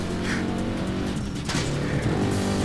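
A car in the online action game APB: Reloaded drives hard with a loud, close, steady engine roar and brief tire squeal, with no talking.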